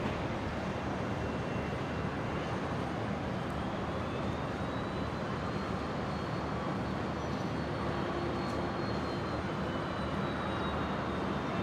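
An Airbus A330 arriving from Auckland at Brisbane airport: a faint, distant, steady jet roar with a thin whine, continuous throughout.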